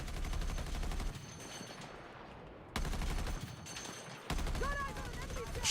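An anti-aircraft turret in a Battlefield game firing in three long bursts of rapid, pounding shots with short pauses between them, loud and close, with a whistling, whooshing sound near the end.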